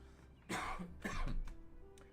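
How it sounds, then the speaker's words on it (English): A man at a microphone gives two harsh coughs with throat clearing, close and fairly loud, followed by a softer short rasp. "excuse my coughing"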